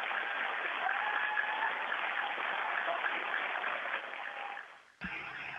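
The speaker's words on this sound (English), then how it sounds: "And a round of applause as well," Audience at the National Space Centre in Leicester gives a sustained round of applause after cheers, even and continuous, dipping and cutting off abruptly near the end into a different, thinner background.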